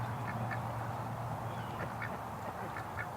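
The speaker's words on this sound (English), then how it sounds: "There's just a whole bunch of ducks there eating corn." Muscovy ducks eating corn give soft, low quacks and murmurs close by over a steady low hum of background noise, with a few faint repeated calls.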